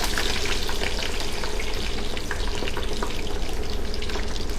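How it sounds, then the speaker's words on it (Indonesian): Food frying in a pan during a live steak sandwich cooking demo, a steady dense sizzle and crackle running loud and continuous with no talk over it. "Nah, kita goreng."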